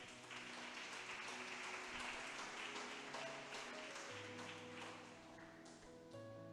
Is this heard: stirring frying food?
no